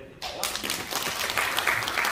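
An audience in a hall bursts into applause at a National Assembly ceremony, the clapping starting abruptly and continuing as dense, fairly close crowd clapping under a voice.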